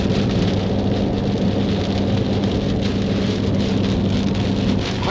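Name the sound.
heavy rain during a storm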